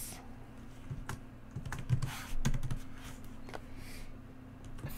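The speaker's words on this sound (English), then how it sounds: "Let's just enter from here and let's type" Quiet computer keyboard typing, a scattered run of soft keystrokes over a steady low background hum.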